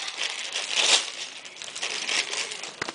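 A plastic parts bag from a LEGO City 7287 Police Boat set crinkles and crumples in hand, with irregular close-up rustling bursts that peak briefly near the start and again later, without talk.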